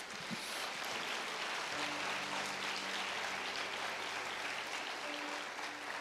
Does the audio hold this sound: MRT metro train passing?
no